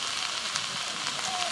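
Pumpkin flowers fry in a pan with flat beans, garlic and a pinch of salt, giving off a steady, close, crackling sizzle throughout.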